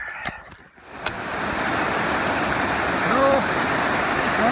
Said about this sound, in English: This is the sound of Perry Creek.